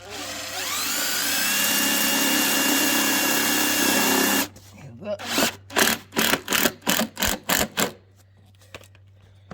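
A power drill whines steadily for several seconds, then pulses in a rapid series of short bursts as self-tapping screws are driven home while mounting a solar panel on a van, up close.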